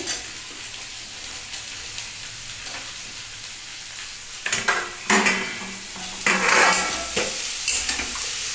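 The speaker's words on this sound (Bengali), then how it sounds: "আলু দিই পেঁয়াজ দিই ভাজা ভাজা করলে দারুণ লাগে এবার কুন্দুলিটাও দিয়ে দিচ্ছি" Ivy gourd, potato, onion and egg frying in a pan give off a steady sizzle, while sharp scrapes and clinks of a utensil stirring against the pan come through clearly in the second half.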